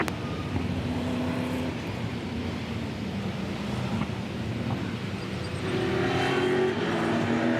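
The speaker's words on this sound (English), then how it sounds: "Safety car increasing speed to 80 kilometres an hour." A safety car at a Supercars race at Sandown accelerates with a steady, loud engine drone that lifts in pitch toward the end, with no talk over it.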